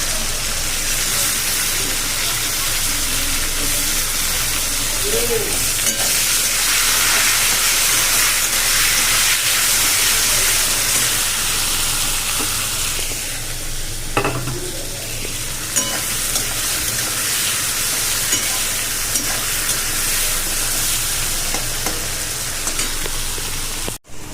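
Tomatoes frying in a pan of hot oil give a loud, constant sizzle and hiss up close, with occasional stirring clinks and small pops and no speech.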